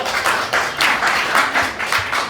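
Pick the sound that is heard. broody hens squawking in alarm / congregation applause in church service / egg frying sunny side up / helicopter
congregation applause in church service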